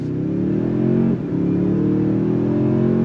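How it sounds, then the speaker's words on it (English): A 2023 Toyota Tundra Capstone pickup with a hybrid electric motor accelerating on throttle in sport mode. Its engine drones steadily and climbs in pitch, dips briefly at a gear shift, then pulls upward again, close and loud. "we're in this 2023 Capstone grade of the Tundra. I have it in sport mode, and we're gonna go on throttle."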